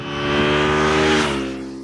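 A Honda VFR 800 FI V4 motorcycle engine revs up with a smooth, harmonic drone, holds high, then drops back after about a second, loud and close with no talk.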